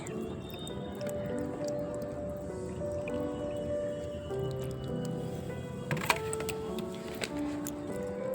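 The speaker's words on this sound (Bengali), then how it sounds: "তো এবার ভরপুর জল দিয়ে দিচ্ছি" Water is poured generously into the soil of a potted pink kanchan plant, giving soft, quiet trickling and dripping with a few small splashy ticks near the end.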